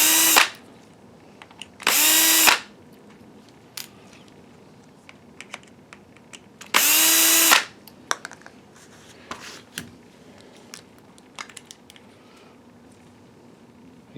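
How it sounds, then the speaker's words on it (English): A power driver backs screws out of an Optoma HD20 DLP projector during repair, two loud whirring bursts close by, separated by quiet clicks and small handling taps. "So again, we're going to take those 4 screws out."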